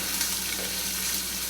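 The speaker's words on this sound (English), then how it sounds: "That bacon's cooking a little more." Bacon and onions frying in a pan, a steady close sizzle and crackle that holds level throughout without talk.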